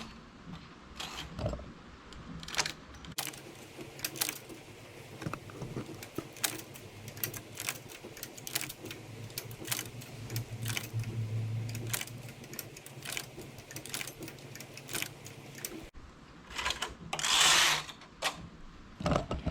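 A knitting machine transferring stitches from the front bed onto the needles while a peasant-style knitted hat is made. It gives steady, close mechanical clicks and ratcheting taps at an irregular pace, with a brief louder rattle near the end and no talking.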